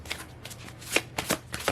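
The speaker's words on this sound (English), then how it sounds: "Go ahead and shuffle these." Tarot cards being shuffled close up, a quick series of crisp riffling bursts and soft flaps.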